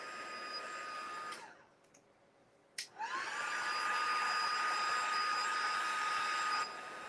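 Handheld dryer blowing on gauze on a scrapbook layout, a loud steady whirring hiss that cuts out, pauses briefly, then switches back on and runs until near the end.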